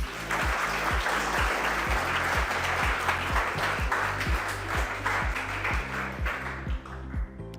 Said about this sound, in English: big round of applause to all of you first